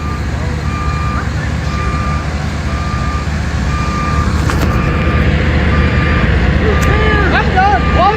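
A dump truck's reversing alarm beeps steadily in regular pulses over a loud idling engine outdoors, with people talking and shouting nearby.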